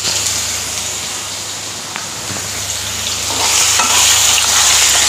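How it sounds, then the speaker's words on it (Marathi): Potatoes frying over high heat in a pan, a loud dense sizzle with stirring that swells louder near the end, continuous and close with no talk. "मस्तपैकी लाल होईपर्यंत त्याला परतून घ्यायचे"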